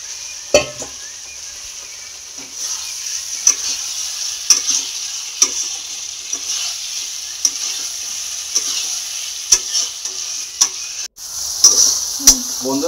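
Chicken frying in a pan at home, a steady close sizzle with repeated scraping stir strokes and occasional sharp clinks of a utensil against the pan, running alone without talk.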